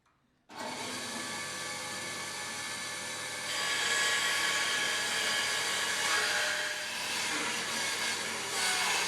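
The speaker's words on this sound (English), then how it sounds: "Alright, back to the bandsaw." A bandsaw roars steadily as it cuts wood to shape a guitar heel, a continuous close, loud whine that grows a little louder partway through the cut. No one speaks.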